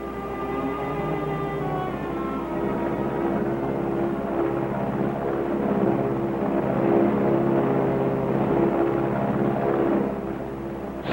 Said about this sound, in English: Sounds like the plane.